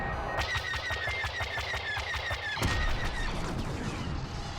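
Starfighter laser cannons in Star Wars Battlefront's Fighter Squadron mode fire a fast, regular volley of sharp zaps over steady engine roar, then a heavier blast at the end and a softer rumbling tail.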